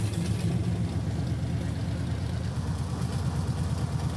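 Chevrolet Bel Air engine running steadily after cranking, a low, even idle rumble with no talking.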